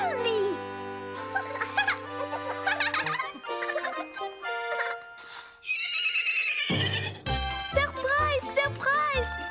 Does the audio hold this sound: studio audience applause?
no